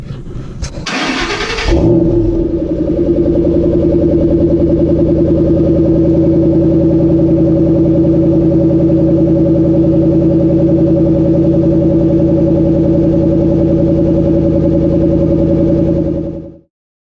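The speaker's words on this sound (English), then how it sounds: "So we're gonna do a cold start." Ford Focus cold start: a brief starter crank catches into a loud, steady idle that drones evenly for about fifteen seconds before cutting off, recorded close with no talking.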